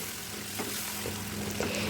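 Chopped onions frying in a pan for prawn malai curry give off a steady, close sizzle that holds evenly throughout, with faint stirring scrapes and no voices.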